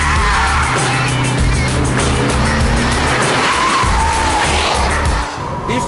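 A Porsche Cayman S driven hard: loud, sustained engine roar with tires squealing and skidding throughout, close and continuous, easing slightly at the very end.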